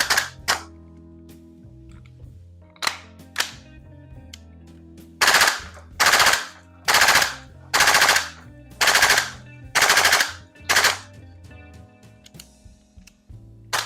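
Salvo Precision MWS MCX Spear LT V2 airsoft gas blowback rifle fired on black gas in near-freezing conditions: eight sharp, evenly spaced semi-auto shots in a steady rhythm, close and loud, after a few lighter clicks, with no talking.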